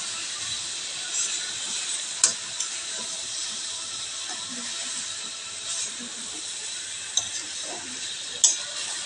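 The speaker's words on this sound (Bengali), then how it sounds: "এবার দেবো আলুটা, ভালোভাবে নেড়ে নেব" Potatoes tossed into hot oil for a mustard-paste rohu and potato curry, giving a steady broad sizzling hiss with a few sharp clicks of stirring against the pan.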